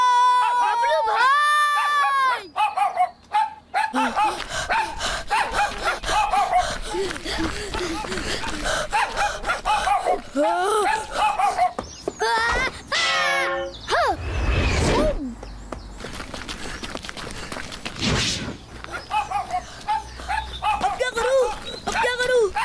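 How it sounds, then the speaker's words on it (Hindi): An animated cartoon dog barks and chases someone. Sharp yaps and yelps are mixed with cries and excited voices across a busy, loud scene. "ये कुत्ता तो मेरे पीछे ही लग गया।"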